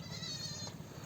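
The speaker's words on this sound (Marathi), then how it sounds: "तुम्ही म्हणसाल की हे बकरी मोठी दिसते, एक पिलू कसं काय दिले?" A goat that has just given birth to a single kid bleats once, a wavering nasal cry near at hand over faint background noise.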